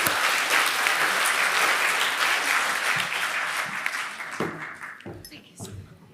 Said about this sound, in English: So a round of applause for our panel members.